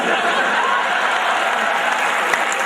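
An audience at a Hindi comic poetry gathering breaks into steady, dense applause that carries at an even level from start to end.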